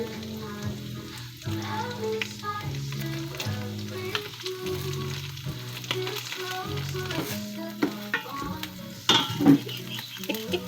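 Tomato paste sautés in a pan for menudo with a steady, soft sizzle under background music. Faint clinks of a spoon or utensil against the pan come through, and near the end a few louder knocks sound.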